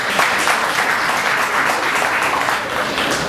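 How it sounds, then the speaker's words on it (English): Steady, full audience applause fills a Nigeria Independence Day celebration, dense and sustained clapping from a crowd with no talk over it. "Can we give applause to that?"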